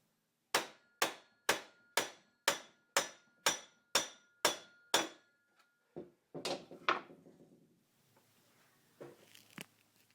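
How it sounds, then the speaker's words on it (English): About ten sharp, evenly spaced blunt strikes of a rubber hammer on a wooden block against a cast-iron lathe headstock, loud and close, followed by a few irregular knocks and clattering handling noises. "I'm using a rubber hammer and a piece of wood to protect the cast iron"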